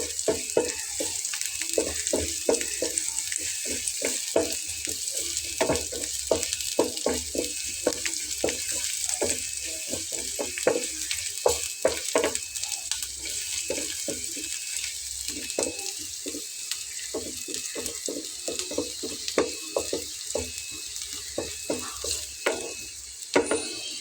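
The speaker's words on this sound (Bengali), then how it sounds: "পেঁয়াজটাকে একটু ভেজে নেব 5 মিনিট।" Onions fry in a pan for a Bengali tiffin snack, giving a steady sizzle with repeated scraping stirs of a spatula, close and continuous with no talk.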